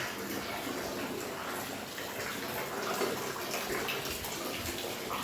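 Heavy rain pours steadily as a dense, even hiss of water that holds at the same level throughout, with no pauses or voices.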